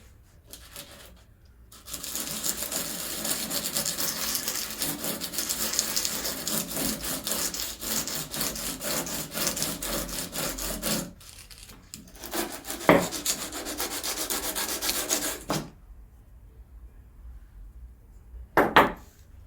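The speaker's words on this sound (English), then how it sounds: "I'm just going to give it a little buff or a bit of sandpaper, clean the bottom off" Sandpaper rubs back and forth in rapid rhythmic strokes across the bottom edge of a wooden interior door, close and continuous with brief pauses and a couple of sharp knocks.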